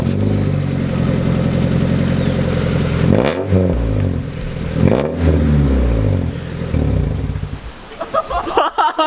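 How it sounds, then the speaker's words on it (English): A Honda Civic with no muffler starts and revs hard, its loud raw exhaust rising and falling in two sharp blips over a rough idle, ending in choppy bursts with voices at the end. "gonna start the Civic up with no muffler or anything"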